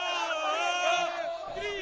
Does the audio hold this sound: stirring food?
no